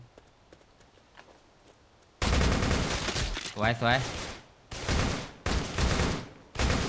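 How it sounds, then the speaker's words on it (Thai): A sudden burst of rapid gunfire in the zombie survival game Darkest Days, loud and close, in several bursts with brief gaps, and a voice speaking briefly between shots. "เสียงปืนนี่อาจจะทำให้ซอมบี้เข้ามาจู่โจมเราได้นะท่านผู้ชมนะ"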